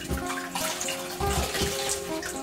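Tap water rushing loudly and steadily into a bin being filled for scouring raw wool fiber, a close, continuous splashing pour.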